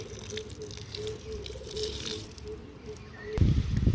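Liquid oil-cake fertilizer splashing and dribbling from a container onto leafy vegetable plants in a rooftop garden, soft pouring and dripping that ends in a louder gush.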